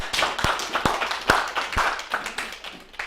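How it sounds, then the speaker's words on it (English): A small audience at a mediumship weekend gives a round of applause: a string of scattered, distinct hand claps in an uneven rhythm, moderately close, with no talking over it. "Let's give her a massive round of applause"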